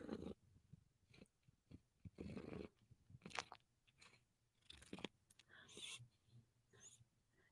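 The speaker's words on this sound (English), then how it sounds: "Can you hear the purr?" A cat purrs right against a microphone, making soft, rough rumbling bursts with a close, breathy texture. The sound is faint and irregular, and quiet human voices murmur alongside it.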